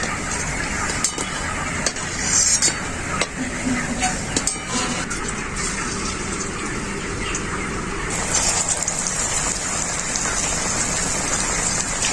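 Bread and potato snacks fry in hot oil with a steady, dense sizzle and scattered crackling pops, loud and close throughout.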